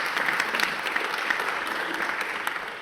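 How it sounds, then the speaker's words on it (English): Conference audience at a UNESCO inaugural event gives a round of applause, brisk dense clapping that fills the moment and begins to taper near the end. "And big round of applause"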